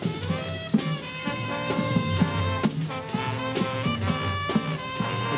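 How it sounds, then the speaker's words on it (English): Junior drum and bugle corps marching in a 1990 parade, brass bugles holding bright sustained chords over steady snare and bass drum beats, loud and continuous without talk. "What you're hearing now is the Northern Lights Junior Drum and Bugle Corps."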